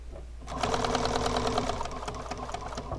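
Sewing machine stitching cording onto a boxed cushion, a close, steady, rapid mechanical chatter that starts after a brief pause, then continues over a low hum.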